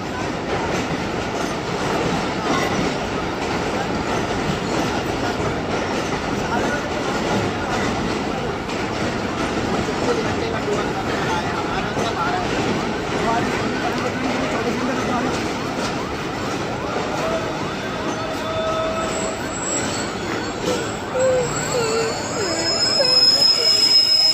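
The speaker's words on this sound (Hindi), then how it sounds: "जो आप मेरे सामने ट्रेन देख रहे हैं जो अभी अभी हैदराबाद के प्लेटफॉर्म नंबर 1 पर आई है, ये है 17 अब मिल्लत एक्सप्रेस" A Millat Express train pulls into platform 1 at Hyderabad station, with a steady rumble of rolling cars, wheel clatter and faint squeals throughout, and voices talking over it.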